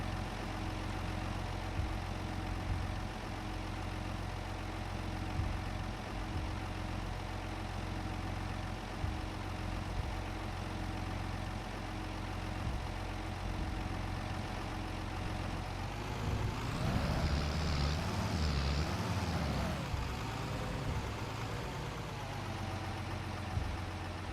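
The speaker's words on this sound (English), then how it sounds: "This is that Zetter 12111 turbo, old school tractor." An old Zetor 12111 Turbo tractor engine running steadily, a loud low diesel rumble idling throughout with a brief rougher surge near the end.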